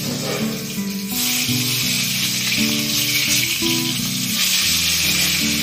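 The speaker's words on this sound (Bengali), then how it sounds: "শুধু বেগুন ভাজা" Eggplant (brinjal) slices fry in a hot pan at home, giving a steady, close sizzle and crackle of oil that runs unbroken throughout, with a few faint tonal sounds from the kitchen in the background.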